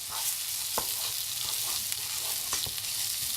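Black rice with onion and garlic is stirred in olive oil, giving a soft, steady sizzle under light, rhythmic spoon scrapes and taps against the pan.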